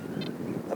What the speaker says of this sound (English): Apologies, it's a little bit windy at the moment.